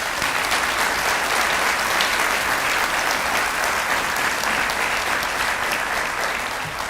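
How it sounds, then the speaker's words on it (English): Sustained, loud audience applause from a crowd at a county budget event, dense and even clapping that carries on for several seconds without a break. "Let's please give them a round of applause."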